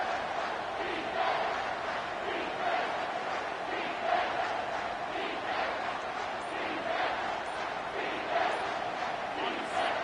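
A football stadium crowd roars in support of the defense during a red-zone stand in an LSU vs UGA game, a sustained dense wall of cheering with rhythmic swells, distant and continuous.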